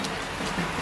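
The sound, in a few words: rain falling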